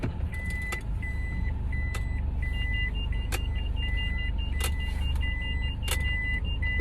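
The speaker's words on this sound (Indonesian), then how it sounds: "Ini aku sambil atret mobil ya." A car reverses into a small house's garage, its steady engine hum and road rumble continuous throughout, with a repeating electronic reversing beep chirping in a regular pattern and a few sharp clicks and taps over the top.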